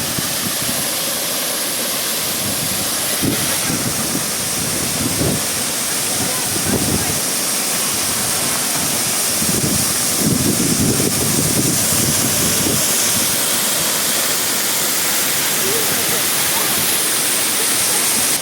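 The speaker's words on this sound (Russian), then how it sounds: "Тут такой водопадик, а тут вот такой." The Gega waterfall in Abkhazia roars in a powerful, continuous rush of falling water, loud and near, with wind buffeting the microphone and voices speaking briefly over it.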